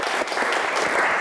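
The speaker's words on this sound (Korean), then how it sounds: "오늘 찾아와 주신 두 선배님에게 감사의 박수 부탁드릴게요" Students at a university chemical and biological engineering event applaud two visiting seniors, a brief, dense, steady burst of many hands clapping together.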